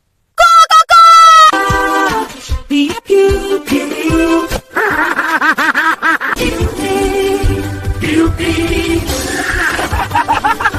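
People mimic chickens, making loud, close clucks and rooster crows with their voices in quick, overlapping bursts and squawks, with no ordinary talk over the imitation.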